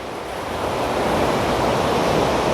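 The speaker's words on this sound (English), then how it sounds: "The sound of waves is calming." Ocean waves wash continuously onto a sandy shore, a broad steady rushing surf that swells slightly louder after the first half-second, with no voices.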